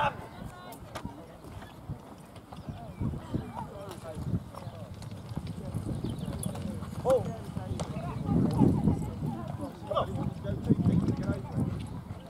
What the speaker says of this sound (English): I didn't know if it was me that was scaring Pete's horse